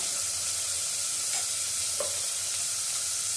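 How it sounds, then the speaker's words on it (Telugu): Onions, green chillies and curry leaves fry in hot oil for an okra tamarind stew, giving a steady, close hiss and sizzle with a few faint utensil touches. "ఉల్లిపాయలు, పచ్చిమిరపకాయలు, కరివేపాకు వేసేసి దూరగా వేయించేసుకోవాలి."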